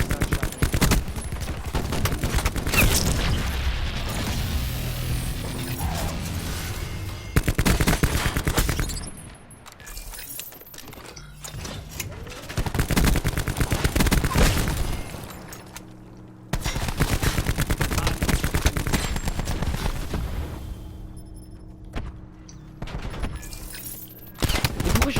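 Peacekeeper weapon fire in the shooter game Call of Duty Black Ops 4, loud rapid bursts of gunfire repeating across the stretch, with short lulls between volleys and other battle noise around them.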